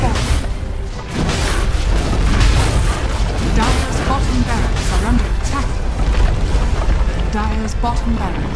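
Dota 2 barracks being destroyed: a sustained heavy booming rumble with crashing impacts and a steady layer of battle noise, while a game announcer's voice speaks over it.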